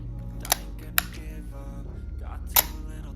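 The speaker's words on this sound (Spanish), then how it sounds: "Ahí vemos el obturador, vamos a ver su función." A Leica M3 rangefinder's shutter is fired three times, giving crisp, close mechanical clicks at irregular intervals over a low background hum.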